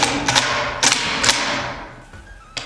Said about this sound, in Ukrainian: одним різким рухом звести затворну раму з затвором в кінцеве положення і просто відпустити